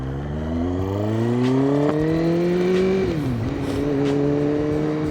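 Motorcycle engine ridden at night through Birmingham from Kingstanding to Slade Road, Erdington, droning loud and steady from the rider's position, rising in pitch through a gear, dipping at a shift, then holding an even cruise.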